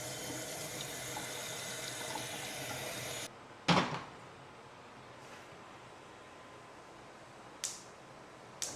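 Saltfish is rinsed under a running kitchen tap, a steady close splash that cuts off partway through, followed by a few sharp knocks and clatters in the quiet sink.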